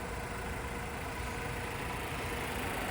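A 2024 Chevrolet Malibu rental car with a 4-cylinder engine and CVT runs at a steady hum, a constant moderate drone with road and cabin noise and no talking.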